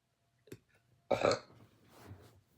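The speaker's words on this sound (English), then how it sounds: "Confirmation burp." A single loud, close burp following a brief short vocal sound, then quiet trailing breath in a silent room.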